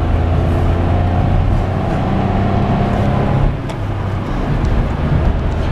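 A 2018 Renault Clio 4 with a 900cc petrol engine accelerates from inside the cabin, its steady engine drone holding loud and close before easing slightly partway through.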